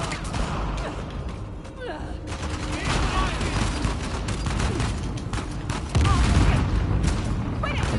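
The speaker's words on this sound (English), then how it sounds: "I just shoot them to get them out of my way." Gunfire rattles while enemies are shot down in Uncharted: The Lost Legacy, repeated bursts and booms layered over continuous loud combat noise, with speech running underneath.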